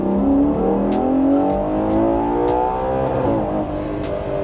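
A Ferrari Purosangue engine revs hard and climbs to redline, a loud sustained roar with rising harmonics and a brief dip near the end.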